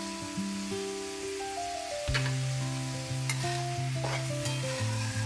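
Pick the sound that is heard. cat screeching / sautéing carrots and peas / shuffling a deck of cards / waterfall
sautéing carrots and peas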